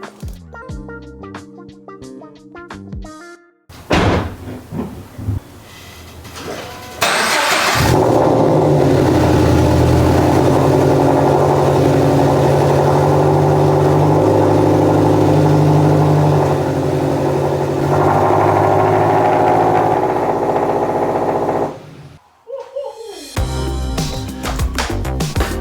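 Subaru BRZ/FRS engine fitted with an OpenFlash unequal-length header, cranking to a start, then a loud, steady, rumbling idle held close for a long stretch before settling, with music heard before and after.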